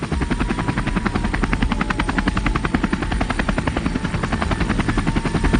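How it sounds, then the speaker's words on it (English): Air America helicopters flying in, their steady rotor thump chopping loud and continuous throughout, close and unbroken with no voices over it. "The Air America helicopters would fly in."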